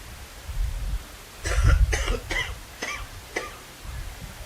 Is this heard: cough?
yes